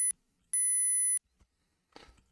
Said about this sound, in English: It's just a bit beep, beep, beep, beep, isn't it?